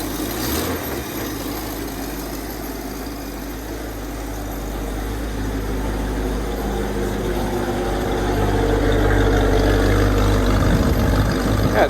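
The engine of a 1965 Ford Mustang project car, which smells of old gas, runs in a steady loud rumble heard from behind the car, building slightly over the span with no speech.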